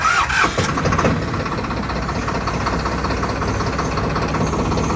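A Swaraj 969 CRDi tractor's diesel engine cranks and fires up, then settles into a steady, fairly loud idle rumble that continues unchanged, with no talking.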